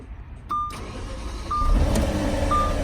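An Audi A6 engine cranks and catches, settling into a rough, rattly idle nearby, with a few short electronic chimes sounding at regular intervals.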